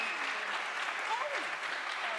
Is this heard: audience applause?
yes